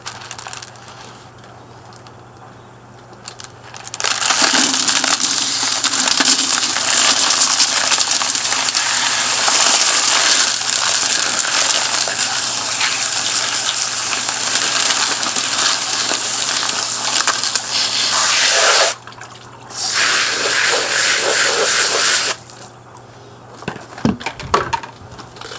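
Agates being rinsed from medium grit using two colanders, a loud rushing wash with rattling stones that runs for about fifteen seconds, stops briefly, then resumes before ending in a few clatters.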